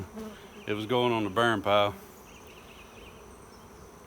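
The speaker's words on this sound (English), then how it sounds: "it looks like the bees are moving in that last drawer that's left in it" Bees buzz around an old wooden desk used as a swarm trap, with a hum spread steadily through the background while someone speaks briefly near the start.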